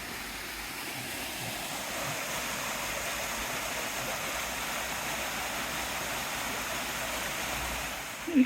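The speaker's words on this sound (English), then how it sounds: "at the waterfall." Continuous rushing water from a waterfall, steady broadband hiss at moderate level without talk, ending in a brief bump.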